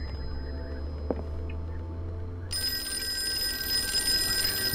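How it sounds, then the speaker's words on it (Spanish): A telephone rings in the Call of Cthulhu video game. A low ambient drone comes first, then a bright, sustained electronic ring starts partway through and keeps going to the end. "Supongo que ya debo contestar el teléfono."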